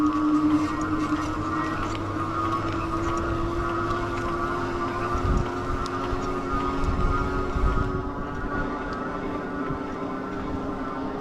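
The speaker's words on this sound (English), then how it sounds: "I'll kind of be quiet here through this next section so you can hear what the motor sounds like" The electric motor of a Sixthreezero Rickshaw electric tricycle climbing a hill gives a steady, even whine with a low drone underneath, continuous and fairly close, with no talking.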